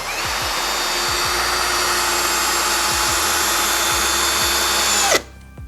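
Worcraft CHD-S20LiBAB cordless drill driving a screw at high speed with a continuous loud motor whine, winding down abruptly near the end.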